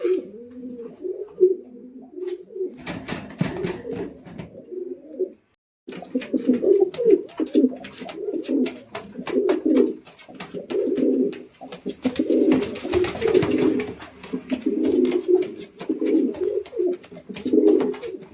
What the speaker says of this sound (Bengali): ভয় পাচ্ছে খুব পায়রা দুটা